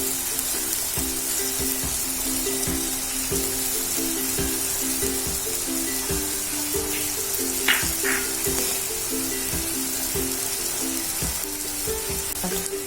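Dried red chillies sizzle in hot oil in a frying pan for a fish roast, a steady crackling hiss with rhythmic clinks of a utensil stirring throughout.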